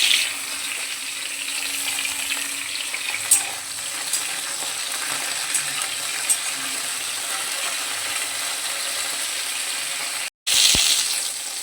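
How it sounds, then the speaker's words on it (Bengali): Drumstick stalks fry lightly in oil without salt or turmeric, giving a steady, even sizzle and hiss throughout, with a brief dropout near the end. "তাই প্রথমে ডাঁটাটাকে একটু হালকা করে ভেজে নেব"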